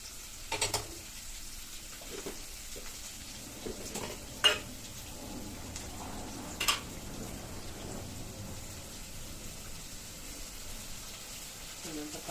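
Onions frying in a pan for Chettinad fish gravy give a low, steady sizzle with a few sharp utensil clinks against the pan, faint throughout.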